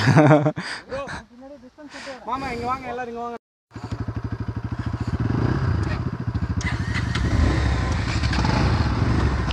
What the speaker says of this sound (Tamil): ஐயோ CT100 அசால்ட்டாக போயிட்டு வருதுங்க